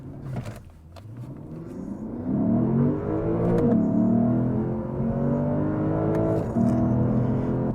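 A Lexus GS F with a naturally aspirated engine launches hard, its loud, steady engine note climbing smoothly in pitch as it pulls through the revs, heard from inside the cabin with no talking.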